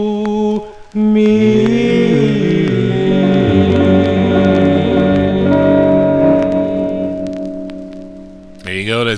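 A 1955 song playing from a Peacock label 78 rpm record: steady, loud harmonic music with sustained tones that holds throughout before cutting off abruptly near the end.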